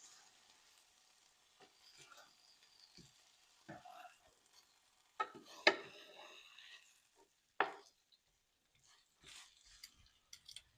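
Pork chops sizzle softly in a pan while being flipped, with quiet crackling broken by a few sharper clatters and scrapes of the turner against the pan.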